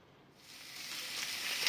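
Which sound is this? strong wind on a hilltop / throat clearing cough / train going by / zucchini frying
zucchini frying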